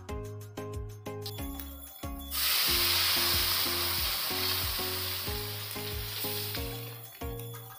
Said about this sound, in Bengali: এবার আমরা ডালটা দিয়ে দিব।